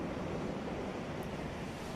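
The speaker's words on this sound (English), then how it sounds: "The lapping waves would whisper" Gentle ocean waves lap steadily at a shoreline, a soft continuous wash of water with a breathy, wind-touched hiss and no voices.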